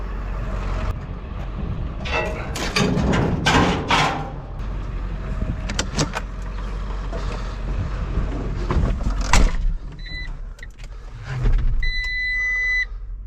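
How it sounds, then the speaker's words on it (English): Skid steer loader driving: a loud, rumbling engine with clanks and knocks and shifting revs, plus a few brief mechanical whines and beeps toward the end, no talk. "I'm gonna pull ahead and take the skid steer out of here."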